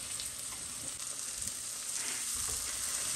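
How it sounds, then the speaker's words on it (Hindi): Garlic, onion, cumin and chili sizzle in a tadka for dahi bhindi masala, a steady, close hiss of frying with soft, occasional stirring scrapes and no talk. "ये देखो तड़के को अच्छे से चलाएंगे लहसुन प्याज को ब्राउन होने तक"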